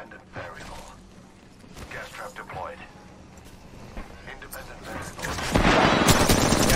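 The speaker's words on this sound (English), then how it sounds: "We've got a team shooting at us from gas." Enemy gunfire in Apex Legends, rapid bursts of shots crackling from a distance and swelling much louder near the end, with players talking over the shooting.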